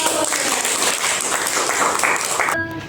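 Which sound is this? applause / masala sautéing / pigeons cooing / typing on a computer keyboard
applause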